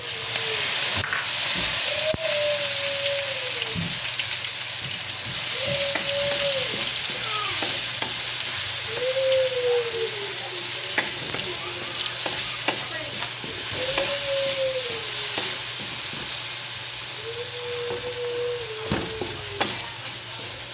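Tomatoes sautéing in a pan for pinakbet, a loud, constant hissing sizzle with rhythmic stirring scrapes and a recurring tonal squeak from the utensil every couple of seconds, close by.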